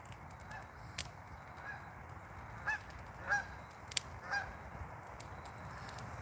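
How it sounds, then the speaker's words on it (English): Canada geese honk as they fly over, several faint scattered calls at a distance against a low background rumble, with no voices. "I can hear the Canadian geese flying over."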